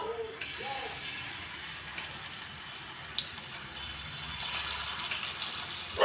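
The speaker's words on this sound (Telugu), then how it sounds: "ఇలా ఒక్కొక్క ఫిష్ని మంచిగా యాడ్ చేసుకుంటూ ఫ్రై చేసుకోవాలి." Small Godavari fish coated in spicy masala marinade fry in oil over a medium flame, producing a continuous bubbling hiss that swells louder toward the end after a brief voice at the start.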